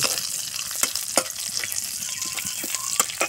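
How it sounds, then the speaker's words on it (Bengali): Bay leaf, green and dried red chillies and cumin seeds fry in hot oil for a vegetarian spinach curry, a close, steady sizzle with scattered crackles and sharp pops. "একটু তেল দিলাম, তেজপাতা দিলাম, কাঁচা লঙ্কা দিলাম, শুকনো লঙ্কা দিলাম"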